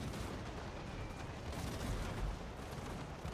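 Dense, continuous volleys of soldiers' gunfire roll through a Total War Warhammer battle, loud rumbling crackle with no clear pauses.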